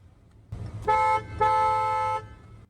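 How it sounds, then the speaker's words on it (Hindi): Dual horn on a 2021 Hyundai Verna SX(O) Turbo car sounds in two close, loud honks, a short blast followed by a longer one, with a faint engine hum underneath. "डुअल हॉर्न है।"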